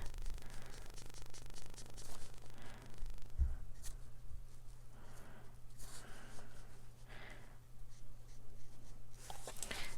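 A Copic marker drawn back and forth across paper to blend colour edges, giving soft, steady scratchy strokes at close range with brief pauses between passes.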